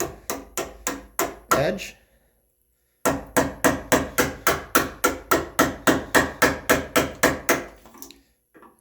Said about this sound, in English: Nice sharp chisel, kind of quick little bites.